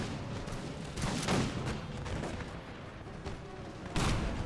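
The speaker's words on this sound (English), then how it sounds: "hopefully you can break them down before they fire any more canister on us" Cannon and musket fire in an American Revolution video game battle, several booming volleys of canister shot crashing out at intervals over a continuous din of gunfire.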